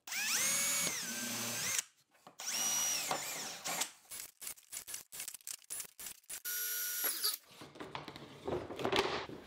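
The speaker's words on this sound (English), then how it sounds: "I'll pre-drill and countersink a few holes in the back of the" A power drill whines in several bursts, spinning up and biting into quarter-inch plywood while pre-drilling and countersinking holes, with short pauses between, close and loud.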